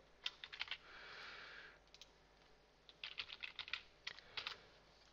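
Keystrokes on a computer keyboard as a name is typed into an Excel spreadsheet: close, crisp clicking in quick bursts with a short pause between them, and no talking.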